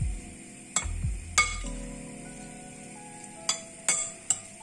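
A spoon stirs a warm stuffing mixture for pork chops in a bowl, with several sharp clinks against the dish and a soft scraping rustle between them, close and fairly quiet.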